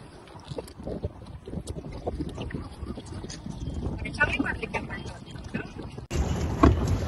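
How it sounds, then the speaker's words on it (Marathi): Pedal boat moving across a lake in a park, with a steady wash of water and wind under continuous nearby talk, then louder splashing and churning in the last second. "जर तुम्ही पॅन्डल बोट घेतली तर ती तुम्हाला स्वतः चालवावी लागते."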